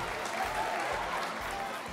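A circus audience applauds clowns in a steady, moderately distant wash of clapping that continues without a break and has a faint roomy murmur under it.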